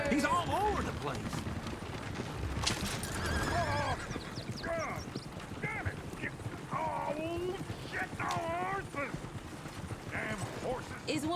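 Horses whinny repeatedly over the clatter of hooves in the video game Red Dead Redemption 2, with several neighs rising and falling amid busy, fairly faint background commotion.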